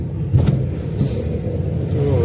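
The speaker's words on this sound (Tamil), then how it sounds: "இங்கிருந்து ஒரு 10 கிலோமீட்டர் இப்போ நான் காரில் போகிறேன்" A small manual-gear car driving along a road, its steady engine and tyre rumble heard from inside the cabin, continuous and fairly close throughout.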